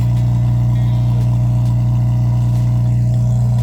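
A straight-piped Honda Integra Type R DC5 engine runs loud and steady, a strong low drone holding near the microphone for the whole stretch, with no talking over it.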